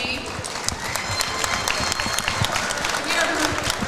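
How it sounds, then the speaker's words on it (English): A basketball game crowd applauding, dense steady clapping with scattered louder claps, sustained throughout in a large room. "I'd love to give these teams another round of applause for a great game."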